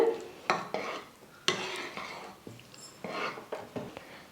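Ghee being stirred into a Mysore pak mixture in a pan gives a series of soft scraping clinks of a spoon against metal, irregular and close, with faint sizzling between strokes.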